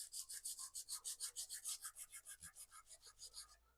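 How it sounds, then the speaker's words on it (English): Emery cloth laid flat on a steel bench, with the powder-coated edge of a clutch spring rubbed back and forth across it in a steady rhythm of about twenty close, rasping strokes, alone without talk. "So we're just going to use a piece of emery cloth."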